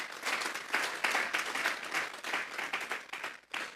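A church congregation gives the Lord a loud round of applause during worship, a dense, even crackle of many clapping hands that surges and eases in waves, fairly distant and without talk.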